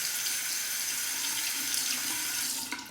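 A bathroom tap runs cold water to rinse a Parker 97R safety razor, a steady close hiss of flowing water lasting throughout with a slight splash change near the end.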